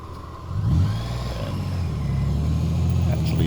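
A 2019 Honda Goldwing motorcycle engine idles, then revs up and settles into a steady mid-pitched drone as the bike pulls from a stop into a left-hand U-turn in a driveway, close and clear.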